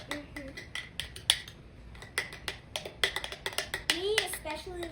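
A spoon clinks against a bowl while mixing salad dressing, with a string of sharp, close taps and scrapes at an irregular rhythm. Speech is heard throughout.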